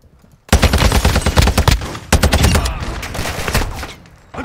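Loud automatic gunfire in the Call of Duty Warzone 2.0 video game breaks out after a short quiet moment, with rapid bursts of shots, a brief pause, then more sustained firing.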